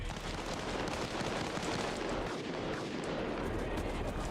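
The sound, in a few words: AK rifle gunfire in a video game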